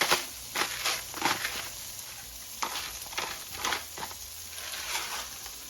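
Whisking eggs with a splash of milk, salt and pepper in a bowl, a series of quick scraping, clicking strokes in uneven bursts, close and moderately loud, with bacon frying softly in the background.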